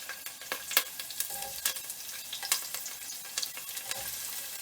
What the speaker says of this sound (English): fry up some of my onions to release some flavor in my oil